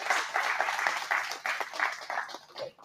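An audience at a seminar on marketing breaks into lively clapping, a close, uneven patter of hands that swells and then thins out toward the end.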